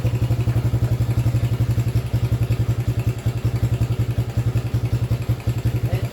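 A Yamaha 80cc four-wheeler engine idles after a carburetor install, a close, loud, rapid putter of regular low thumps with a slight clatter, steady and unbroken throughout without talk.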